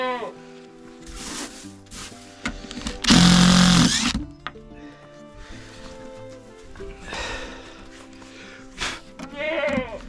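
Several goat bleats come and go over a busy background, with a loud, dense burst of noise in the middle.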